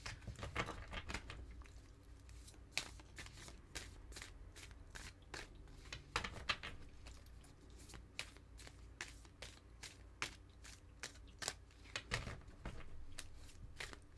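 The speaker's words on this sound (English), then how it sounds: "I'll do one more shuffle" Tarot cards being shuffled by hand, a quiet run of soft riffling and flicking bursts repeated irregularly, close up with no voice.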